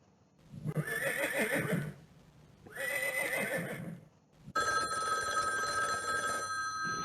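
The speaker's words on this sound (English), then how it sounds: "Horse." A horse whinnies twice in long, loud, quavering calls, then a bright electronic ringing tone takes over and continues steadily to the end.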